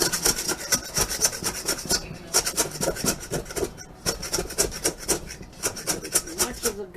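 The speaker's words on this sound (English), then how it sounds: "I'm just making sure I have nothing dry at the bottom of the bowl. Any way you want to mix it will work out fine." Sourdough bread dough is mixed in a bowl, with rapid rhythmic scraping and slapping strokes repeating continuously and close up, with no one talking.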